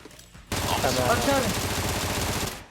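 Rapid gunfire bursts from a first-person shooter game clash with sudden, sustained loudness after a brief quiet start, with voices mixing in beneath the shooting.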